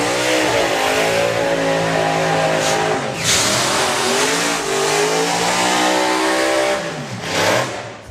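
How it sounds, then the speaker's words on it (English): A drag racing car does a burnout at Bug Jam, its engine revving hard and loud at close range with screeching tyres, the pitch dipping and rising through several sustained bursts. "certainly hitting the loud pedal on the burnout"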